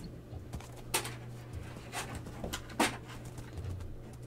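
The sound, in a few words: dog panting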